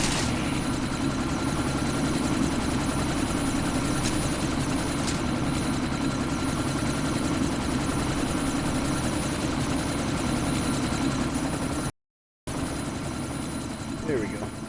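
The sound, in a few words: helicopter taking off, from video game Deus Ex: Mankind Divided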